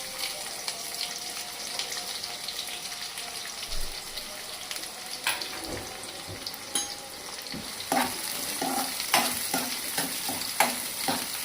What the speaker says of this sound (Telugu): ఇప్పుడు ఈ ఉల్లిపాయ వేగిందండి సగము